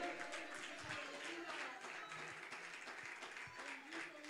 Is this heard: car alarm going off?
no